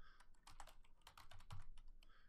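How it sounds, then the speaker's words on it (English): Quiet, rapid clatter of keys on a computer keyboard, continuous with irregular bursts of keystrokes for a couple of seconds, and no voices. "However, if I keep typing,"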